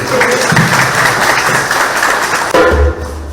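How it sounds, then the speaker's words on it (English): An audience at a memorial celebration of life applauds in a steady, dense wash of clapping that fills the room and ends with a brief low thump near the finish. "I think he deserves another round of applause."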